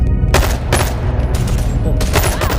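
Gunfire in the VR game Bonelab: several loud, sharp shots in quick bursts, each a broad crack standing out over a steady rumbling game background.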